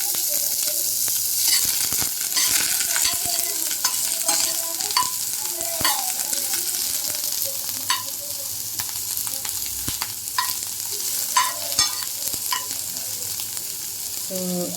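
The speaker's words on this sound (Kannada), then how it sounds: "ಅದಕ್ಕೆ ಈರುಳ್ಳಿ ಹಾಕ್ತಾ ಇದ್ದೀನಿ. ಇದು ಸಹ ಸ್ವಲ್ಪ ಹುರ್ಕೋಬೇಕು." Chopped onion frying in a spoonful of oil for a raw mango chutney, with a constant bright sizzle broken by repeated scraping strokes of a spoon stirring the pan, close up and with no voices.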